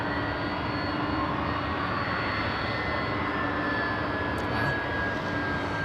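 Boeing 767 jet engines at LAX airport produce a steady, broad roar with a faint high whine running through it, heard from a distance and holding constant throughout.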